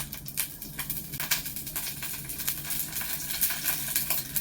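Onion, chili and curry leaves sautéing in a pan over a wood-fired stove, with a steady sizzle, repeated sharp scrapes and taps of a stirring spoon against the pan.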